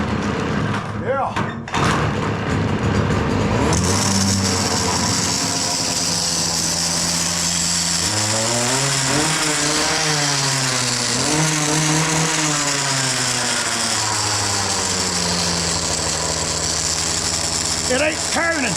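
A Stihl FS56RC string trimmer with a replaced gearbox runs loud and close, its small two-stroke engine revving up and down in waves after a sputtering start, with people talking over it.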